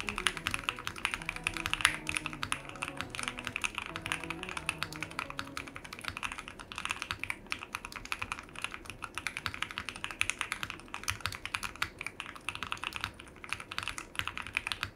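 Continuous typing on a custom aluminium barebone gasket-mount mechanical keyboard with a soft, thocky, poppy, creamy character; steady clustered keystrokes run throughout with faint music beneath.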